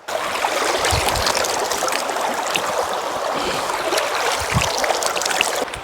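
River water near a Gavi forest homestay flows steadily toward the Maniyar dam, a continuous close rushing and gurgling that stays even throughout.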